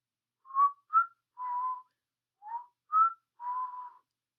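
A man whistles a short tune of six notes in two phrases, clear and fairly loud, with a pause between the phrases.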